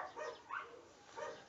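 Several dogs barking in bursts at a distance, faint and somewhat muffled, with three or four short clusters of yaps across the moment.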